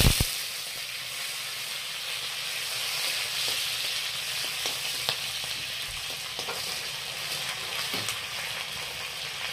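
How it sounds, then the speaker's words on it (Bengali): Dried fish (shutki) fries in hot oil with a loud, continuous close sizzle and hiss, broken by occasional sharp pops and crackles throughout. "তেলটা এবার গরম হয়ে গেছে, এবার আগে তেলে দিয়ে দিব শীতল শুটকিটা।"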